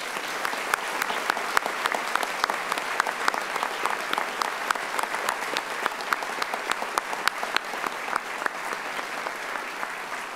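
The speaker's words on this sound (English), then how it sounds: "can I just ask you to do one more round of applause" An audience claps steadily and loudly at a district grand opening event, a dense sustained round of applause lasting the whole stretch with no talk over it.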